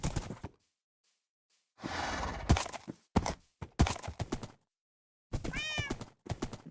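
A cat meowing in the Minecraft video game, with a few separate meows: one long drawn-out call, then short clustered cries. They are close and moderately loud, with silent gaps between them.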